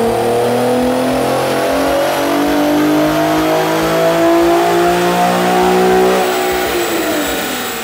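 An Infiniti Q50 engine with an aftermarket intake revs hard through a dyno pull, a loud, close, rising mechanical howl that climbs steadily in pitch and then tails off near the end.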